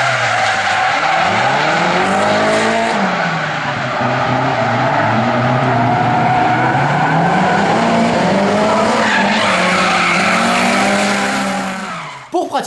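A rear-drive car drifts with long continuous tire squeal and a revving engine rising and falling, loud and close for over ten seconds, cutting off abruptly at the end.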